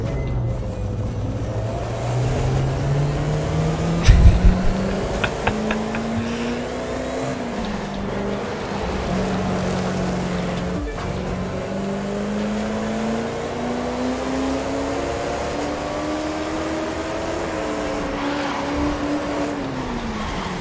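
Koenigsegg Regera engine in The Crew 2, racing in a PvP event: a loud, steady hypercar drone that climbs in pitch through long gear pulls, with a brief clatter near the start and no talking.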